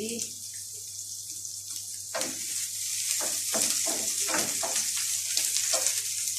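Food sizzles and fries steadily in a pan while being flipped and stirred, with a constant hiss and clustered scraping clicks of the utensil toward the end, close and alone.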